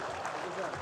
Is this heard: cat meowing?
no